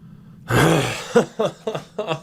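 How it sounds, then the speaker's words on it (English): A man struggles to clear his throat during an NHL 20 gaming session: a long, strained, breathy rasp followed by four short, forceful guttural hacks in quick succession, close and loud. "I can't clear my throat."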